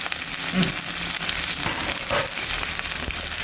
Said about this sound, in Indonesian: Ini minyaknya wis panas. Langsung kita masukkan si bahan-bahan yang barusan kita iris-iris ya